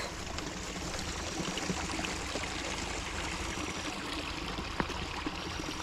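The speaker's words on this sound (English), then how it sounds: "How's this little runoff?" A small creek's runoff trickles and flows steadily, a continuous close-up wash of moving water with no voices, carrying down into the main part of the stream.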